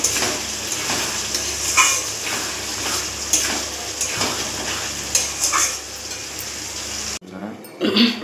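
Duck egg curry masala sautés in a pan with a continuous close sizzle and repeated scraping strokes of a spoon stirring, cutting off abruptly near the end before a brief clatter resumes.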